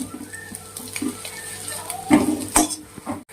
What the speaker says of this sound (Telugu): ఇప్పుడు దాంట్లోకి క్యారెట్, క్యాబేజీ వేసుకొని మంచిగా మళ్ళీ ఒకసారి ఫ్రై చేద్దాము.